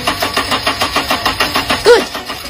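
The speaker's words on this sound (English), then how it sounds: "We asked the car owner to start the car and check if there is fuel injection here." A car that won't start is cranked by its starter, producing a loud, rhythmic chugging of about a dozen even turns close to the microphone, with a brief louder whine near the end.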